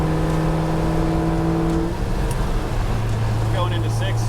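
A supercharged 1964 Pontiac GTO cruises in fifth gear on a highway, its engine a steady low drone under constant loud road and wind noise, with someone talking over it.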